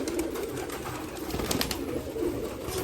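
Continuous throaty cooing from a crowd of pet pigeons inside a loft in Nashik, near and fairly loud, with several birds overlapping in a soft rolling drone.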